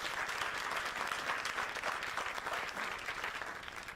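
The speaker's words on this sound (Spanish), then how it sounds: "Un aplauso para todas y todos." Steady audience applause at a panel session on social and solidarity economy, a dense, continuous wash of clapping heard from the room, fairly faint and without voices.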